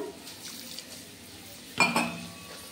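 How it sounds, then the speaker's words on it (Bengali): A little water is poured onto mustard and poppy seeds in a mixer jar for paste, a brief close splash with a clink near the end after a quiet lead-in. "একটু জল দিয়ে দিলাম"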